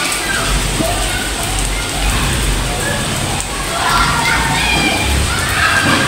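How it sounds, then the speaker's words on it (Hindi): Dense, steady downpour of heavy storm rain under dark clouds, a constant broadband roar with no breaks, close and loud throughout. "इतनी शदीद बारिश है ना, ये बहुत ज़्यादा"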